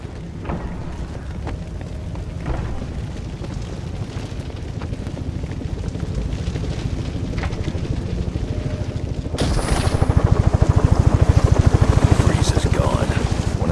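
Helicopter rotor thrum in the Batman: Arkham Origins video game, a steady low chopping drone under game sounds that swells louder and closer near the end.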